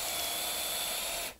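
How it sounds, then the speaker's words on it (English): A power drill whines steadily as it bores a half-inch starter hole into a wooden stair tread, running evenly at close range before cutting off abruptly. "drill a starter hole, half inch diameter,"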